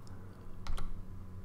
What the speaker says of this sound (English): Now let me type in the subcircuit